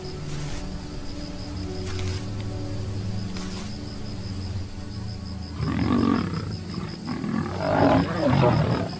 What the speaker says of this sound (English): From the distance, a roar tears through the silence, echoing across the parched grasslands.